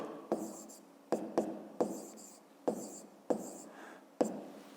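A pen or pencil writes on paper with quick scratchy strokes, about seven sharp onsets each trailing off into a soft scrape, close and quiet, with no talking.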